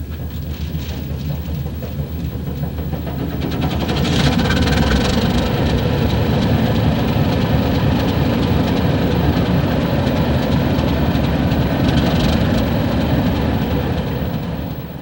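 Baldwin diesel locomotive on the Trona Railroad, a 1948-dieselized desert short line, rumbling loud and steady at close range with a deep engine drone and rail noise that swells after the first few seconds.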